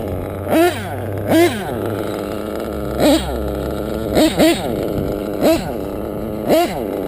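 A modded engine idles after its first fire, a low steady putter broken by several short sharp revs or blips spaced a second or so apart, loud and close with no talk.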